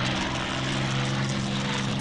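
Enemy propeller warplanes in the Combat Wings flight combat game give a steady droning engine hum with low tonal bands, holding constant throughout with no speech.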